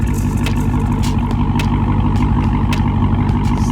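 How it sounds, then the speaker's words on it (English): A car engine with a mid muffler delete exhaust idles close by with a steady, deep, throaty rumble that holds even and loud the whole time, with no voices over it. "now let it idle for a second. I'm gonna let you guys hear the way it idles"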